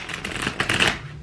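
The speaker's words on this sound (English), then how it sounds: "I am going to just shuffle a couple of times because I did shuffle before, but I'm feeling to do so again now." A deck of tarot cards is shuffled close by in a short, dense riffle of papery flutters that swells and then fades.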